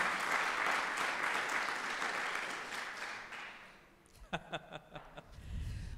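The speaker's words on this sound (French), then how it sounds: "Est-ce qu'on peut applaudir l'équipe de la plateforme?" A church congregation applauds the platform technical team, a full burst of clapping that fades out after a few seconds, followed by a handful of sharp, separate claps.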